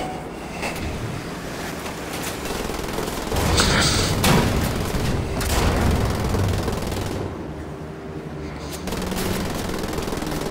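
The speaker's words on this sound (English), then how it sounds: "Pumping bullets into these guys" Rapid automatic gunfire bursts from the World War II shooter Wolfenstein: The Old Blood, fired at enemies on the docks, dense and loud with a few brief pauses between volleys.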